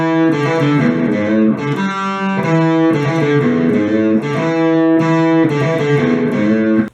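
An electric guitar plays the bridge riff of a song, a bright repeating pattern of plucked notes and ringing chords in a steady, loud, close rhythm with no talk.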